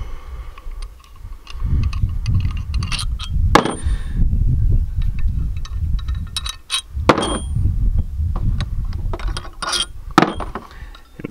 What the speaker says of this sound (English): So we're gonna go ahead and split this rod cap right now real quick. Just pull the bolts out.